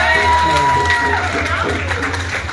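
A crowd at a welcome event for a pageant winner cheers and claps, loud at first then easing, with voices and whoops mixed into the noise.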